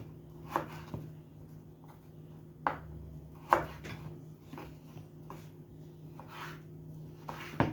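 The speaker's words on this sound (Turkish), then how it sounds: "patatesleri küp küp doğruyoruz" Sharp, irregular knife chops on a cutting board as potatoes are cut into cubes, a dozen or so taps spaced unevenly over a low steady background hum.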